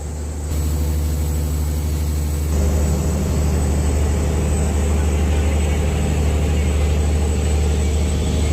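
A fishing boat's inboard engine running at sea, a loud, steady low throbbing drone that continues unbroken close by.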